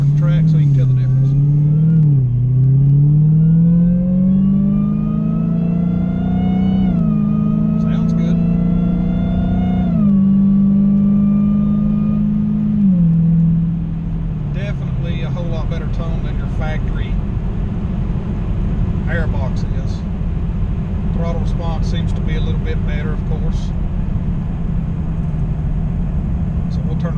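A Dodge Hellcat's engine and intake roar as the car accelerates on the road, pitch climbing through several gear shifts, then settling into a steady lower rumble, with voices heard over it.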